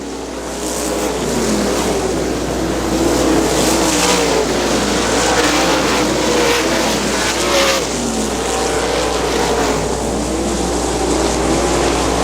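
410 sprint cars roar around the dirt oval at Butler Battlegrounds, a loud continuous engine drone rising and falling as the pack passes, with no talk over it.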